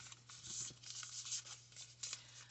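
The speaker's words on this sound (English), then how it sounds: "I think this is also Tim Holtz 3D embossing folder. So I'm going to run this through." A Tim Holtz 3D embossing folder being cranked through an embossing machine, a faint, steady rubbing grind with slight uneven pulses, close and quiet, no talking.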